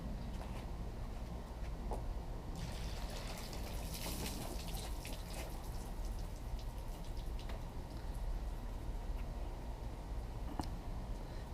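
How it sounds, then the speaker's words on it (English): Water poured over ceramic-coated car paint runs off in a faint, continuous trickle and patter, quiet and steady with no voices. "I'm going to be pouring some water on here to see how it beads off"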